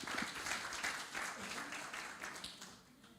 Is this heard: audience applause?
yes